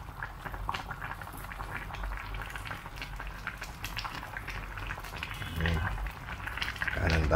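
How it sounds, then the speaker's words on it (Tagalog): Salmon sinigang simmering in a pot gives a steady bubbling, sputtering hiss throughout, with a voice talking over it and a slight swell toward the end. "Kasi pinakulaan naman natin yung yung ating isda ng medyo matagal-tagal."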